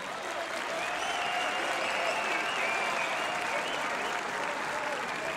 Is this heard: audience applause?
yes